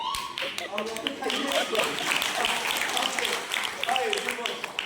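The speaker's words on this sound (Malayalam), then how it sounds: "സാധാരണ അഭിനന്ദിക്കുമ്പോൾ കയ്യടിക്കും" A group of people claps together in congratulation at a family and friends farm resort, a dense patter of hands close by that carries steadily through the whole stretch.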